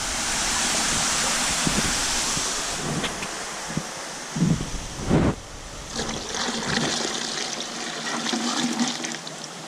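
Aquarium water poured in steadily to acclimate two stranded hoplo catfish, a continuous rushing splash with a few brief louder gurgles partway through.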